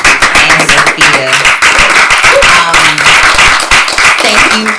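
A small audience at a scholars' presentation event claps in a close, loud, steady round of applause with a few voices mixed in.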